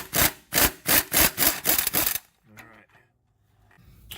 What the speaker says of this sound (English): Get my impact wrench positioned a little bit better.